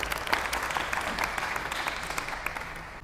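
Students in a volleyball class give a short round of applause. The clapping is moderate and dense, holds steady for about three seconds, then tapers off.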